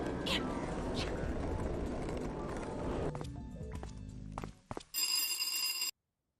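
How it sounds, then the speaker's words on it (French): An electric doorbell ringing near the end, with a bright sustained buzzing ring that cuts off abruptly after about a second, following footsteps and ambient noise; voices are present in the background of this French-dubbed cartoon scene. "On sonne et on entre."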